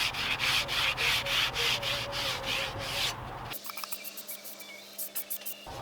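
Olive oil is wiped across the top of a grill on a fire brick rocket stove, making rhythmic, scratchy back-and-forth rubbing strokes that give way to lighter, scattered scuffs.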